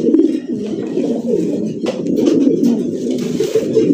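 Pigeons of a fancy show breed coo steadily and close by, a continuous warbling murmur with overlapping calls and no talking.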